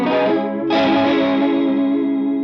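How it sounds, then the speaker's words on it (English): An electric guitar chord rings out through a wow and flutter effect with a wavering, warbling pitch wobble, a second strum following quickly and sustaining; no voices. "now we have some wow and flutter"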